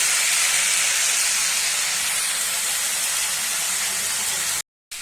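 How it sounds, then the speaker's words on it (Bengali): Water spinach greens with lentils frying in a pan give a loud, steady hiss that runs almost unbroken, then cuts out briefly near the end. No one speaks. "শাকটা ভেজে নিয়েছি অনেকটাই"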